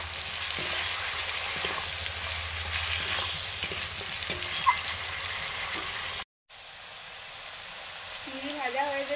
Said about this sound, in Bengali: চিংড়ি ভাজা হয়ে যেতেই চাল কুমড়ো দিয়ে দিলাম।